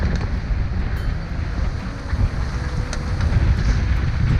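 Wind blowing across a sailboat at sea approaching New Zealand off North Cape, a steady broad rushing roar with buffeting on the microphone and a wash of waves beneath, loud and continuous with no voices.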